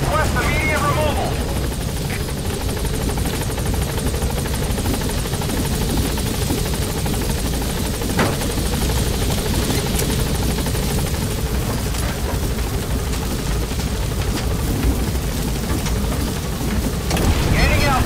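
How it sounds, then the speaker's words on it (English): Support helicopter arriving at a landing zone in Metal Gear Solid 5, a loud continuous rotor thrum and turbine roar sustained throughout, with voices talking over it. "This is Pequot. There's an obstruction at the LZ preventing me from landing."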